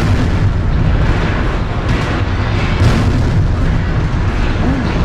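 Missile explosions pound without pause in a mech combat video game, a dense, loud, rumbling roar that fills the whole stretch with booming blasts and no clear gaps.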